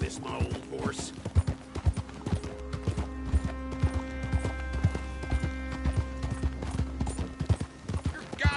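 Rhythmic hoofbeats clip-clop steadily as a horse moves along in Red Dead Redemption 2, with a low game-like hum beneath and occasional faint voices.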